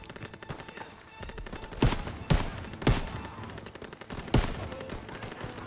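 Loud, close machine gun fire and scattered gunshots in the Call of Duty WWII D-Day battle: dense rapid bursts with several heavier booming shots standing out, continuous throughout.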